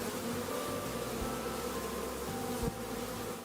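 A bee hums in a continuous, quiet, steady drone for several seconds, with no other sound around it.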